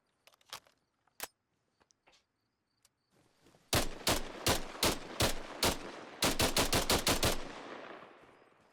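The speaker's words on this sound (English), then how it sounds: "Fully auto. And again, we'll do a hip fire so you can see the ejection." An FN SCAR rifle fired full-auto from the hip in the Arma Reforger video game, a few scattered clicks first, then loud rapid bursts of sharp shots close by, ending in a fast string that rings out.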